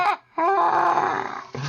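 A person voices a nasty, scary Halloween growl, a sustained rough roaring imitation lasting over a second, close and loud, bracketed by brief vocal sounds.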